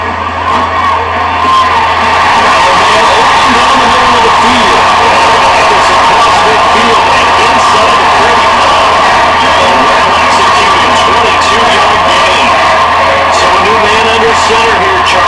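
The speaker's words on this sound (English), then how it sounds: "A little sarcasm in that cheering from this crowd here tonight." A stadium crowd in a Madden 23 football game between the Texans and Saints cheers and shouts continuously at full volume, a dense steady roar with whoops throughout.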